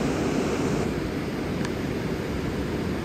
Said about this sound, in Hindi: यहाँ पे बह रही है नदी, बिल्कुल उसकी आवाज आ रही है।